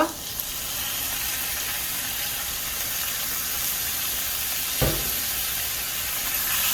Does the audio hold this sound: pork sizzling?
yes